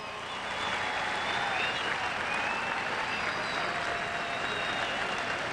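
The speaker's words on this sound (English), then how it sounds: "applaud for him" A stadium crowd applauds steadily for Todd Jones, a retiring professional baseball player, at his on-field retirement ceremony, a dense continuous clapping swelling in after a brief quieter start and holding loud throughout.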